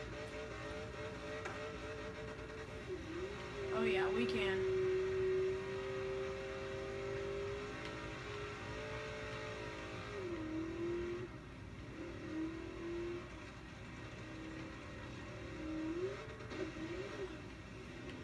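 A car engine whirs and revs steadily in Forza Horizon 3 as the car reverses up a mountain, rising and falling in pitch, with a brief remark spoken partway through.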